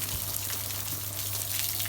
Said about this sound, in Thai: รดจากบนลงล่างให้น้ำไหลลงมา